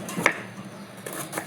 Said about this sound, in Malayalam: ഈ ഒരു ഉള്ളി അരിഞ്ഞു കഴിഞ്ഞാൽ